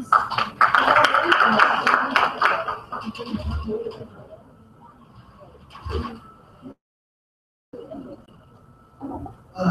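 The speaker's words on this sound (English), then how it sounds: "Let's give him a round of applause." An audience applauds at the Regional Cybercrime Conference 2017 in Cebu City, a burst of dense clapping for about three seconds that fades out. A voice then begins speaking.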